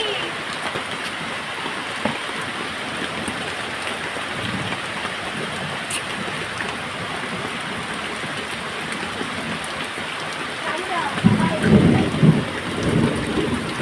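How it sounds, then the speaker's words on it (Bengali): Steady heavy rain falls with low rolling thunder rumbling in the background, and a louder, closer burst of rumbling and downpour comes near the end. "আকাশ ডাকতে দেখেছো ধুম গরম করে। আজ অক্ষয় তৃতীয়া শুভ দিনে বৃষ্টি শুরু হয়ে গেছে"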